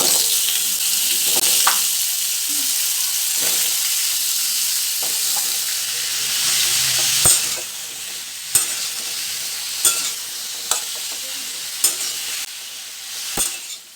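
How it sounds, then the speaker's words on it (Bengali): Whole radhuni seeds tempering in hot oil for a Bengali pumpkin dish, a steady bright sizzle and frying crackle that runs throughout, then a run of sharp utensil clicks and taps over the fading sizzle. "তেলটা বেশ ভালো করে গরম হয়ে গেলে তাতে 1 চামচ রাঁধুনি ফোড়ন দিতে হবে।"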